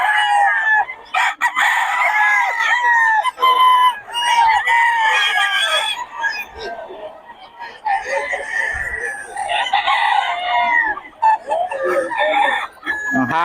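Roosters and stag gamecocks at a fowl gathering in Bocaue crow loudly again and again, their calls overlapping with scattered clucking throughout, close by and with no voices over them.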